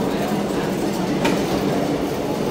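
A train rumbles past at a children's attraction in the USA, a steady mid-distance rolling noise with faint clatter that holds level throughout.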